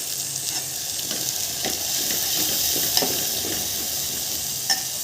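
Masala sizzles steadily in hot oil with turmeric and chili powder added, while a spoon stirs it with soft scraping strokes, close and continuous with no one talking.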